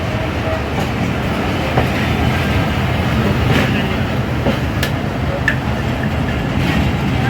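Padma Express intercity train between Rajshahi and Dhaka passing straight through a station without stopping, a steady loud rumble of rolling wagons with faint clickety-clack and brief higher squeals over the full span.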